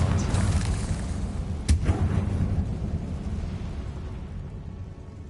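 A Confringo spell explodes in the Hogwarts Legacy video game inside a tomb, a sharp burst followed by a rumbling roar that fades slowly over several seconds, loud and close with no speech.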